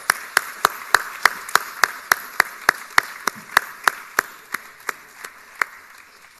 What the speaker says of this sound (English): a huge round of applause as we formally declare that OnFix is open to memberships and networking